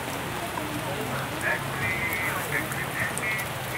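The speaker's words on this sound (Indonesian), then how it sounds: "Kita diguyur hujan hari ini." Steady rain pattering on a surface at a traditional market in Aek Loba village, North Sumatra, a dense hiss throughout, with faint quacking-like calls and murmurs in the background.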